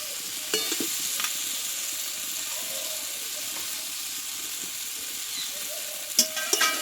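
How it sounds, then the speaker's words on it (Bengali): Banana stem and papaya pieces are stir-fried with spices in a pan, giving a constant moderate sizzle and hiss, with a few brisk spatula scrapes at the start and near the end. No one speaks. "মশলার সঙ্গে একসঙ্গে কিছু নাড়ু আমি কষিয়ে নেবো"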